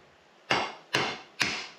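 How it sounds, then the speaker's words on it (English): Three sharp hammer taps on a screw at an even pace, each a crisp metallic knock with a short ringing decay, close by and with no talking. "Just tap it down with the hammer here."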